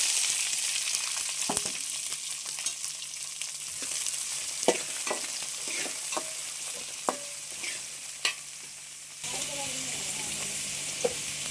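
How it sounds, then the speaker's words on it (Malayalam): Small onions sauté in a pan with mustard seeds and curry leaves for chicken curry, a steady hiss punctuated by sharp spatula clicks and scrapes, up close with no talking. "ചെറിയ ഉള്ളി എന്നിട്ട് വഴറ്റിയെടുക്കാം."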